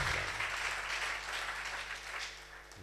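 An audience at a workers' convention in Chiniot claps loudly and steadily, a dense wash of hand claps filling the hall for a few seconds before cutting off.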